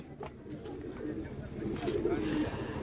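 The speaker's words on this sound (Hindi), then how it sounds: "कबूतर आ गए हैं" Soft, low pigeon coos murmur in the background beneath people talking nearby, steady and fairly quiet throughout.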